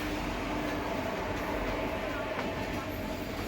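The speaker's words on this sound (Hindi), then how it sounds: "हमारी ट्रेन साहिबाबाद पर हॉल्ट लेने के बाद अब आगे की तरफ चल चुकी है।" Passenger train pulling away from Sahibabad station after a halt, its steady rumble and rail noise continuing throughout with faint voices underneath.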